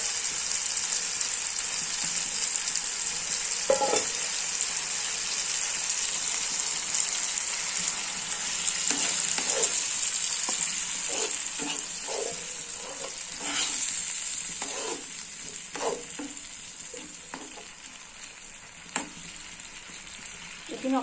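Tomato sauce thinned with water and a bay leaf heats in a pan, giving a steady close hiss and bubbling sizzle with scattered small pops and clinks, no talking.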